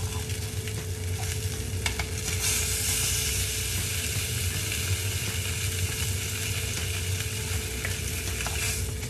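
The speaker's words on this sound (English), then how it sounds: "And then I'm gonna sear the other side." Salmon sears in a hot pan with a steady, loud, close sizzle and frying crackle, continuous and unbroken throughout with no speech.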